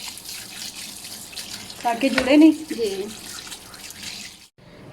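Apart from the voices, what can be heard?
cold water poured over strained macaroni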